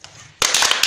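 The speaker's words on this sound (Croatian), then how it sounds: "Pljesak." Applause at a school quiz event, a sudden burst of dense clapping that starts partway in and carries on loudly to the end.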